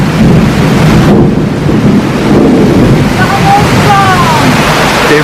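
Heavy summer rain pours steadily in a loud, continuous roar, with deep low rumbling of thunder rolling underneath throughout.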